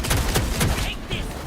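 Rapid gunfire bursts from the video game Vampire: The Masquerade - Bloodlines 2, loud dense shots rattling continuously through the short moment, with game combat sounds and no clear speech over it.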